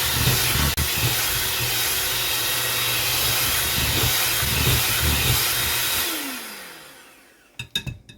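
Electric mixer beating cookie dough with eggs at high speed, a loud steady whirring hiss with an underlying motor drone that winds down near the end, followed by a few clicks and knocks, no speech.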